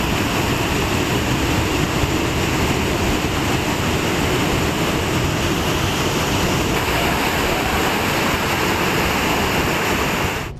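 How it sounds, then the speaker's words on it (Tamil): Floodwater roars steadily at Panchalinga waterfall during a flash flood, a dense, loud, unbroken rushing wash that stays constant throughout with no voices. "பஞ்சலிங்க அருவியில் வெள்ளப்பெருக்கு ஏற்பட்டு அடிவாரத்தில் உள்ள அமனலிங்கேஸ்வரர் கோவிலை வெள்ளம் சூழ்ந்தது"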